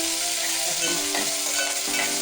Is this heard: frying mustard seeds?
yes